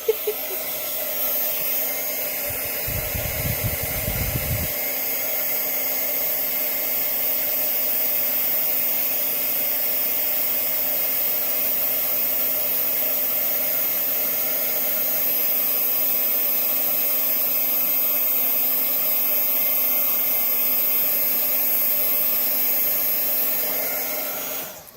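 A heat gun runs on a steady, loud blowing whir while heat-setting stamped ink on vellum, a continuous close drone that holds for the whole stretch with no talking.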